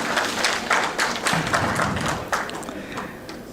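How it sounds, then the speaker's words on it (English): An audience claps in applause at a business conference in Jamaica, a steady broadband patter that holds loud for a few seconds, then thins slightly toward the end. "Give her a round of applause."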